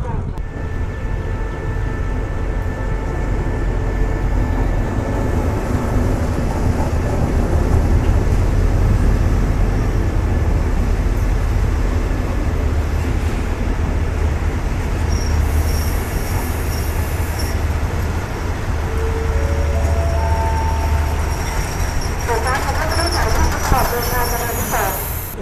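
Special Express train from Sungai Kolo rolling past at close range, a long steady rumble of wagons with rising wheel squeal and screeching metal toward the end, voices faint underneath.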